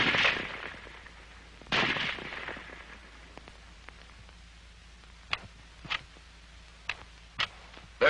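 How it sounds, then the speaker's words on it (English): An M1 Garand semi-automatic rifle fires, with two strong sharp reports early on followed by several lighter cracks and clicks spaced irregularly across the rest, with a hushed, roomy background between them. "The rifle will fire each time the trigger is pressed until the magazine is empty."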